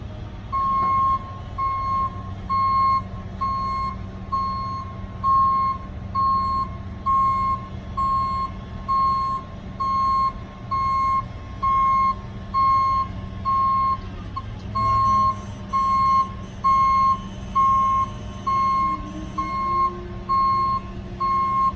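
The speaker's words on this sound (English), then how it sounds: "I'm gonna get him to dump the bed for you" A 2008 GMC 7500 forestry bucket truck dumping its bed, with steady evenly spaced reversing beeps over a low idling diesel rumble, plus a brief higher whine near the end.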